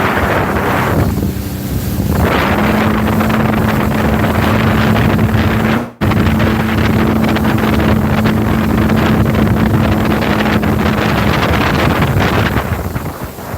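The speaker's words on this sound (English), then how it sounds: "It's just a windy night." Strong wind on a night beside Lake Erie at Nanticoke roars and buffets the microphone in a dense, continuous rush, with a steady low hum underneath and a brief dropout near the middle.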